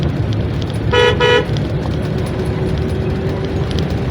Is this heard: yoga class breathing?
no